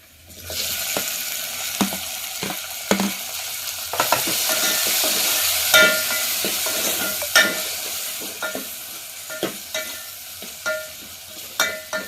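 Tomatoes frying in a pan for an eggplant curry, a steady hiss of sizzling oil with repeated clinks and scrapes from a stirring spoon, close and fairly loud, no talking.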